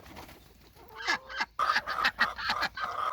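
Chickens cluck in a hot outdoor chicken pen on a family farm beside a barn, a close run of short, sharp clucks and squawks after a quieter start, with a brief pause midway.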